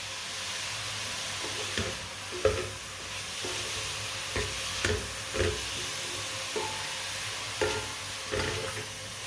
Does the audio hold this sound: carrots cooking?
yes